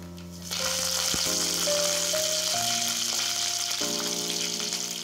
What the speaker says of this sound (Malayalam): ഇനി ഇതിലേക്ക് 1 ടീസ്പൂൺ കടുക് ഇട്ട് കൊടുക്കാം.